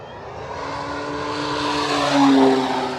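FMS Pitts V2 1400mm radio-controlled biplane flying over a runway, its electric motor making a steady whining drone that rises in pitch and swells louder as it passes close, continuous for about three seconds.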